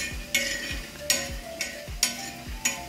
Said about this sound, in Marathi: वड्यासाठी थोडेफार लागणारे शेंगदाणे इथे भाजून घेते